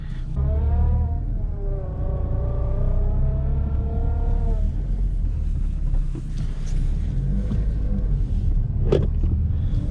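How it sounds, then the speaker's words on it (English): Ford Puma Mark V car on a drive, a low engine rumble with a rising then falling tonal whine early on, wind buffeting the microphone and a few faint knocks and clicks later. "first little drive in the Puma Mark V on the channel"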